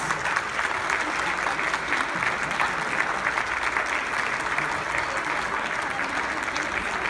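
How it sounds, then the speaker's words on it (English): A crowd at an aerial silk performance in Singapore applauds loudly and continuously, dense clapping holding steady from start to finish. "a big round of applause for our world-class aerial performers."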